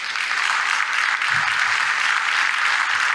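Steady applause from the audience at a vegetarian congress as a guest is invited on stage, even continuous clapping at moderate volume with no talking over it.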